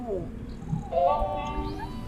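A cat meows in the horror zoo game Zoonomaly, a single drawn-out mew rising and falling over a low game ambience with faint background sound.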